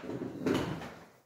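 An indoor door closed behind a cat, giving a single soft thud with a brief rattle, heard close by and then fading into quiet.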